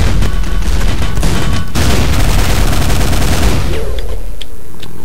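Rapid nailgun and shotgun fire against ogres in the game Quake: a loud, dense burst of gunfire for about three and a half seconds that breaks off sharply midway, then a fading tail with faint clicks.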